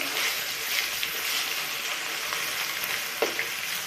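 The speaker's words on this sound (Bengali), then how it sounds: "দেখো দেখো মাছগুলো ভেজে নিচ্ছি কিছু মাছ এখানে ভাজা তুলেছি আর এখানে কিছু ভাজতে দিয়েছি" Fish fries in hot oil in a pan at home, a steady, dense sizzle that runs close and loud throughout, with a few faint clinks of a utensil near the end.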